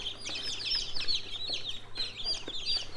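Newly hatched baby chicks peeping continuously at close range, a dense overlapping chorus of high, thin cheeps with rapid rhythm and no talking.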